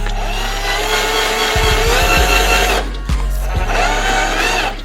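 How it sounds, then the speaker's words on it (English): A power drill whines steadily up close as it bores into tissue paper, with a brief pause partway through before it spins up again, and a low mechanical rumble underneath. "Hold this bit firm and drill into the tissue paper."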